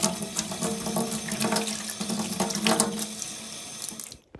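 Running water flushes out a cooling system part from a Mini, a steady splashing rush like a tap running into a sink, fairly loud and continuous, with no talking.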